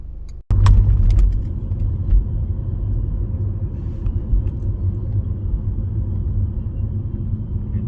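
A car drives along a city street in Chattanooga, its steady low engine rumble and road noise continuous and close after a brief sharp knock near the start, with no distinct turning sound standing out.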